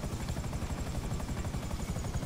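Helicopter in the video game GTA 5, a steady rhythmic rotor thumping that stays constant and fairly close throughout.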